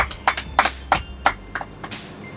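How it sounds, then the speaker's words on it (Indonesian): Scattered hand claps ring out at a Christmas traditional and glamorous costume contest as the winner is honored, about ten sharp, separate claps in an uneven rhythm, fairly close and with no talk over them. "berikan tepukan kepada OJ"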